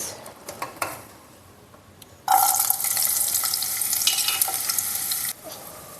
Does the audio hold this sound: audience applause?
no